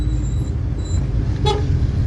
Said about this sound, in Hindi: ये देखें ट्रैफिक ही बहुत जाम है